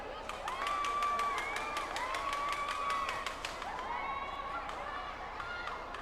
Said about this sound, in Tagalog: this mammoth crowd